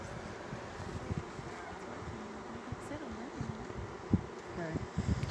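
Honeybees buzzing around a hive during a beekeeping class on checkerboarding hives, a faint steady drone with soft rustling and occasional bumps close to the microphone, no clear talk.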